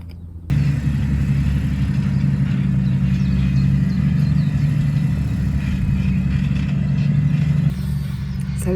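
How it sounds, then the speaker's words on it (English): A massive tractor drives down a farm track, making a loud, steady low engine rumble that starts suddenly and continues without a break before easing off slightly near the end. "So lunch got interrupted by a massive tractor coming down the track."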